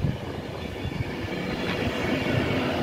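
A Pendolino train passes through Birmingham International station, a loud, steady, close rumble of wheels and traction noise that holds for the whole stretch with no voices.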